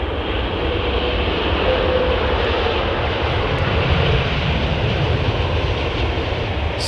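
An airplane on the runway at London Heathrow Airport, heard as a loud, steady engine roar and broad rumble that fills the whole stretch without letting up.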